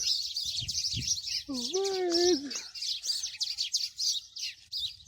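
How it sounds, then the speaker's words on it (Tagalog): Birds chirp and tweet steadily in a yard in Abu Dhabi while a child calls out excitedly partway through, the bird calls continuing close and fairly loud throughout. "Ang daming birds."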